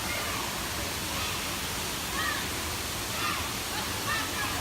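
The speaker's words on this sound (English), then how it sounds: "We found the actual waterfall now." A waterfall's continuous rushing roar runs throughout at an even level, with a few faint chirpy sounds and some background voices mixed in.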